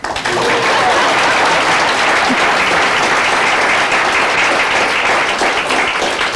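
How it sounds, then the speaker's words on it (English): A seminar audience on codependence breaks into loud, dense applause that starts at once and holds as a full, even wash of clapping to the end, close and with no voices over it. "Okay, you guys, clap."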